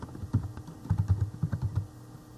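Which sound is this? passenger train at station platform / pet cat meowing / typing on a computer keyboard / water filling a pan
typing on a computer keyboard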